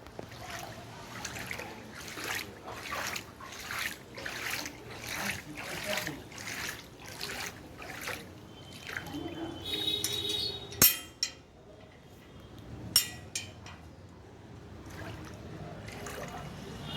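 Rainwater trickles and drips across a flooded home courtyard after a night storm, a soft continuous patter with rhythmic splashes, a few sharp clinks and faint voices in the background.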